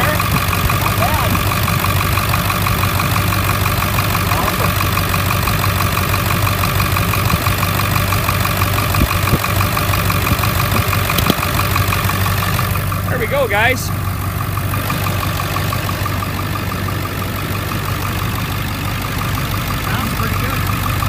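A Ford 7.3 Power Stroke diesel V8 idles steadily with a loud, even low-pitched clatter and rumble, close to the microphone, while someone briefly speaks over it.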